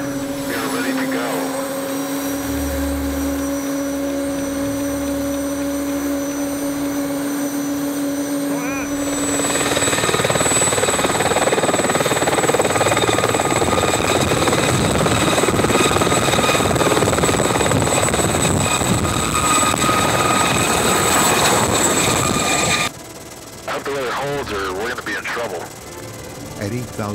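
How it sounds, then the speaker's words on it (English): Helicopter taking off and flying, a loud continuous turbine whine and rotor roar that swells as it lifts, then steadies in flight, with radio chatter and talking over it. "Helicopter 1X-ray 0 cleared for takeoff."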